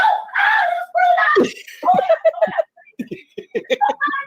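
A person in a house screams in fright at a squirrel, with loud, sustained shrieks followed by choppy, breathless yelps and squeals, close and intense.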